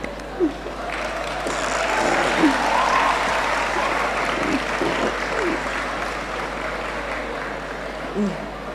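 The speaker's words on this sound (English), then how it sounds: "Is that a clap?" An audience at a medical faculty pledge ceremony breaks into sustained applause, a dense wash of clapping that swells and holds for several seconds, heard from within the hall.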